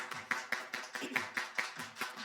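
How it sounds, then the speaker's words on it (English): Hands clap in a steady, even rhythm, about ten claps at a brisk pace, fairly soft and close, as a church congregation claps along to music. "everybody clap your hands"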